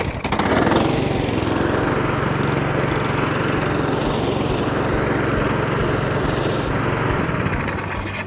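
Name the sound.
Cobra AirMow51B hover lawn mower started and running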